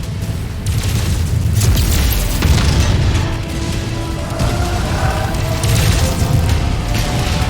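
A mech reactor in MechWarrior 5 blows after going critical: a dense, sustained roar of booming blasts and crackling debris rumbling on for several seconds, loud and close, with mechanical clanks in the mix.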